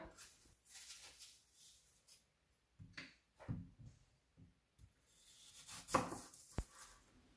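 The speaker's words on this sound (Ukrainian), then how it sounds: "нарізаємо такими тоненькими пластинками" Apples are cut into thin slices with a knife on a board, giving a series of soft, irregular chops and taps, near and fairly quiet, with no talking.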